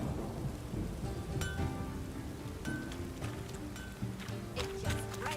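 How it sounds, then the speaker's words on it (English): Steady rain pours in a video game, a dense hiss of drops on surfaces, with low thunder rumbling underneath and a few crisp ticks and drips standing out near the listener. "It just rains and rains."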